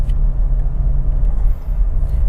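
Dodge Challenger with a 3.6-liter V6 of around 300 horsepower, heard from the cabin while driving as a steady low engine and road rumble at moderate cruise, with no distinct revving and a constant droning hum.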